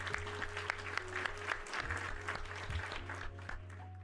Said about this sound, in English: Round of applause for Sean